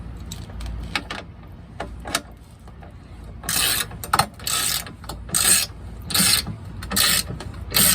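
Wrench ratcheting as bracket bolts are tightened on an RV generator skid plate on a Coachmen Nova, quick clicking bursts that grow louder and denser in the second half, close up with no speech.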